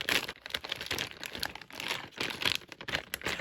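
Clear sticky tape for a Castle Grayskull toy set crinkles as it is handled up close, a continuous brittle plastic rustle with irregular crackling bursts and no voice.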